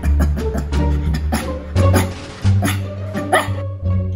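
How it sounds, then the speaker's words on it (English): Shih Tzu dog giving a rapid run of short, high yipping barks, close and fairly loud, in quick bursts with brief pauses between them and no talking. "Thank you so much for teaching me how to bark!"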